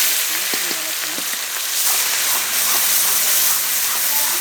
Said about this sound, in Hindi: अभी इसमें डाल दिया हमने जीरा, और जीरा थोड़ा सा चटकने के बाद में अब डाल लेंगे ये छौंक